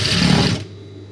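Sewing machine running steadily while stitching the side slit of a chudidhar, a loud, even mechanical whir that cuts off abruptly partway through, leaving a quiet hum.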